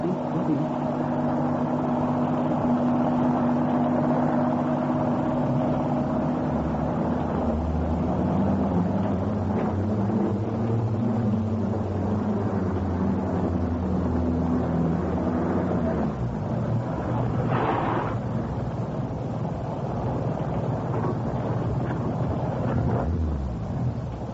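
A car engine rumbles and idles steadily, close and continuous, with a low droning hum and wind-like noise over it.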